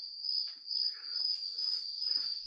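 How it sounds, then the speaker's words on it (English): Crickets chirp in a steady, continuous high trill, with faint background noise beneath, offered as a soothing sound for tinnitus relief. "a lot of people wanted to get rid of crickets"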